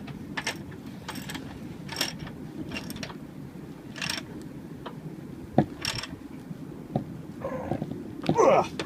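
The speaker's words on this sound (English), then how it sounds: "And then just start to tighten the spindle back up." The chain adjuster spindle on a Yamaha YBR 125 motorcycle is tightened with a spanner, giving a series of close metallic ratcheting clicks and clinks, interspersed with someone talking.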